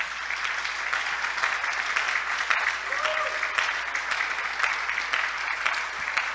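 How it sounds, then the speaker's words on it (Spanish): A church congregation claps in steady, moderately loud applause during a sermon, sustained dense clapping with no voices on top. "¿No merece un aplauso de gloria a Él?"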